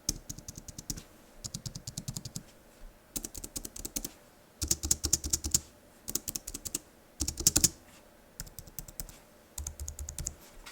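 Close, quiet typing on an Apple keyboard, with rapid key clicks falling in irregular bursts separated by short pauses and no voices.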